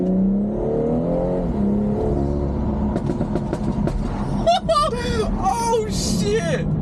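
A BMW with a Stage 1 tune accelerates hard, its engine note climbing and dropping through quick, smooth gear changes. Excited voices speak and exclaim over the rising revs.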